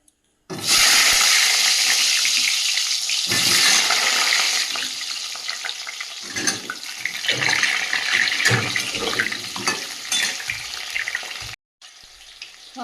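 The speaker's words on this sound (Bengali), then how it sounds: "তেলটা গরম হয়ে গেছে আলুগুলো ভেজে নেব" Potatoes frying in hot oil in a wok, a loud, steady sizzle and hiss that runs for several seconds, dips and resurges as the pieces are moved, then cuts off near the end.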